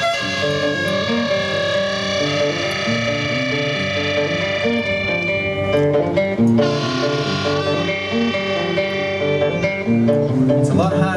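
Harmonica played to imitate snoring, a sustained buzzing, wavering reedy tone with a swelling breathy surge near the middle, heavily processed with distortion and echo-like effects, continuous and loud with no talking.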